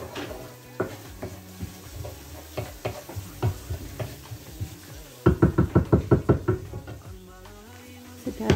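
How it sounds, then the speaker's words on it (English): About half a cup of onions fry in a pan for Filipino lumpia, giving a steady sizzle under repeated knocks and scrapes of a utensil stirring against the pan, including a quick rapid run of taps. "I'm gonna drop in my onions. Let them start going a minute."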